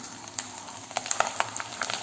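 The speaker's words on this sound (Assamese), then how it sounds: "এয়া মোৰ কেৰাহী গৰম হৈয়ে আছে মই এতিয়া অলপ আগত পুৰি ভাজিছিলোঁ আৰু এতিয়া ইয়াতে মই এইখিনি ভাজি ল'ম" Potato chip slices fry in hot oil in a kadai, a quiet close bubbling sizzle dotted with sharp crackling pops.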